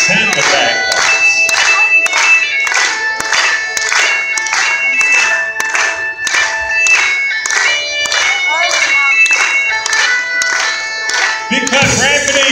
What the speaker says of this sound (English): Clap along the sound of the bagpipes.